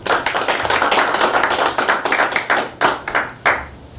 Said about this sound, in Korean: 여러분 큰 박수로 받아주시기 바랍니다.